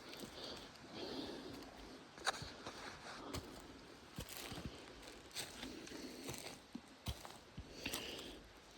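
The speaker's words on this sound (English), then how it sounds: "You hear that crunch? That's all these bay tree leaves on the ground." Footsteps crunching through dry bay tree leaves on a wildflower trail, a run of faint, uneven crackling steps with sharper snaps, heard close but quietly against soft outdoor ambience.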